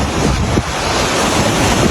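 A strong flood current rushes past a broken bridge at Moragahakanda, a loud, continuous roar of churning water mixed with wind buffeting the microphone.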